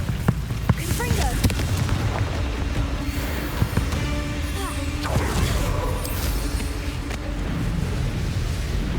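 Confringo fire spell explosions in the video game Hogwarts Legacy, a series of booming bursts and crackling blasts with game effects layered underneath, fairly loud and dense across the stretch.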